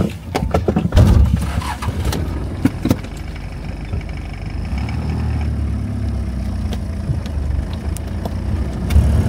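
A car drives along a road in Western Sahara toward the next village, its engine a steady, close low rumble that holds through the whole stretch with a few brief knocks near the start and no voices.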